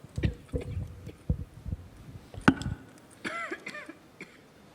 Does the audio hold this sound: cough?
yes